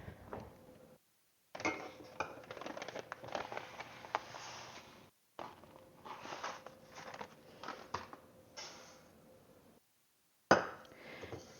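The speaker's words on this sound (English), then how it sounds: "And mix until it is well coated with my egg white mixture." A spoon stirs flaxseed granola into egg white mixture in a bowl, giving close, irregular clinks and scrapes in several bursts separated by brief pauses.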